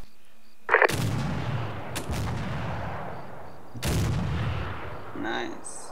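Explosive charges detonate in the military game Arma 3, a sharp blast near the start rolling into a long heavy rumble, then a second loud boom with a sustained roar a few seconds later, with faint voices barely audible.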